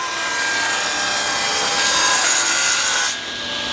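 A table saw rips through oak wood with a loud, steady grinding whine that drops off sharply near the end as the cut finishes.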